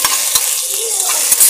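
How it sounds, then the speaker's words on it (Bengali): Onion, ginger and garlic masala fries loudly and close up in a pan, with a dense continuous sizzle broken by soft rhythmic scraping knocks from stirring. "পেঁয়াজ আদা রসুন ভালো করে ভেজে নেব যাতে না গন্ধ থাকে।"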